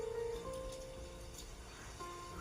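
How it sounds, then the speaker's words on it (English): Gentle calm rain ambience playing steadily in a cozy room at night, a soft continuous patter with a faint tonal hum in the background. "We just love the little calm rain."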